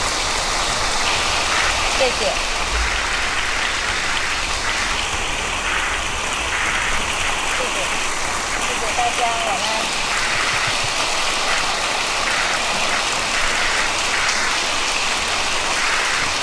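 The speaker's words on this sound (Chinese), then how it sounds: "请大家再掌声鼓励" An audience at a religious teaching gathering breaks into sustained applause, a dense crackling clatter filling the whole stretch, with a voice speaking over it.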